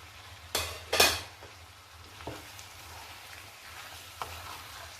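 Aloe vera sabji with cashews and raisins is stirred in a pan, giving a few sharp scraping clatters near the start and then a soft, quiet sizzle with occasional light taps.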